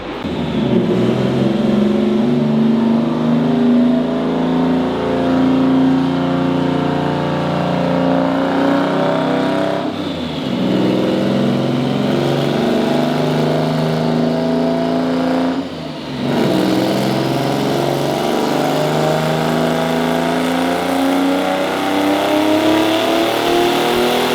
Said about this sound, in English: we're gonna do one more pull on pump gas